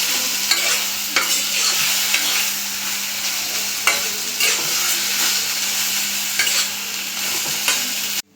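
Whole red amaranth greens fry in a pan with a steady, close sizzle while a spatula stirs and scrapes, leaving sharp scraping knocks every second or so, with no talking.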